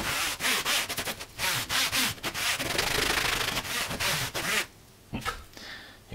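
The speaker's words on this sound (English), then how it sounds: "So I first clean it with some alcohol." Cloth soaked in alcohol is rubbed over a planar speaker stator, giving fast, close, rasping back-and-forth scrubbing strokes in a rough rhythm, easing into a quieter pause near the end, with no voices.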